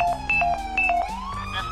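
Police car siren in GTA 5, a wailing electronic tone that steps up and down between pitches over a low engine hum, loud and close with no talking.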